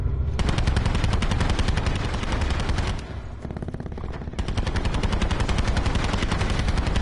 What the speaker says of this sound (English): I think those guys are on the roof and they're shooting at people.